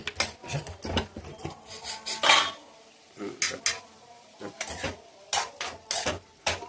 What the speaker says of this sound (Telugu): మూత పెడుతున్నాను చూడండి